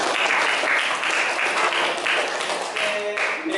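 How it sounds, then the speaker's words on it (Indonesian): A classroom audience breaks into sustained applause, many hands clapping at once in a dense, steady burst that fills the room, with a brief voice near the end. "Berikan aplaus dulu untuk"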